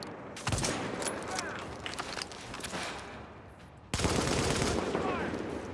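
Video game gunfire rattles at a distance in scattered, crackling volleys over a busy background, with a sharper, louder stretch of shooting near the end.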